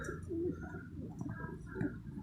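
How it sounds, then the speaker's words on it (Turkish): Soft, throaty pigeon coos come and go in short bursts over a rumbling background, with faint chirping mixed in. "Güvercinler var burada"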